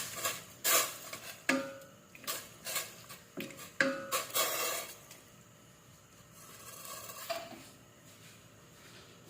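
Boiled bamboo shoots are stirred in a cooking pot for creamy tambo, with a utensil clanking and scraping against the metal in uneven bursts, then easing to quieter, slower stirring.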